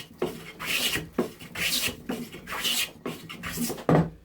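A Faithfull hand plane takes shavings from southern yellow pine in about eight rhythmic rasping strokes, each a close, dry, scraping swish separated by short pauses as the plane is drawn back.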